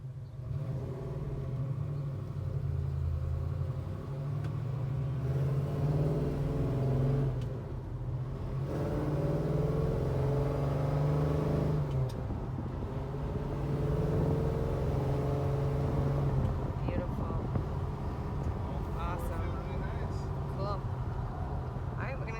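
A 1967 Chevrolet Chevelle SS engine hums and rumbles steadily from inside the car, swelling with manual gear changes, while someone talks over the drive.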